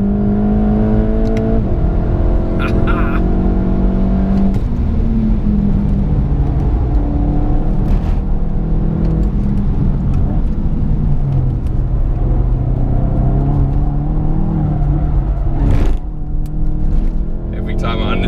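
A 2019 VW Golf GTI TCR race car runs through a corner with a steady, loud engine drone whose pitch rises and falls. Someone talks over it throughout.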